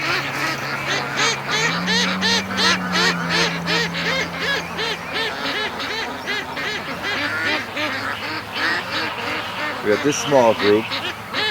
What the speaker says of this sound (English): We got a whole bunch of ducks just went back to the yard.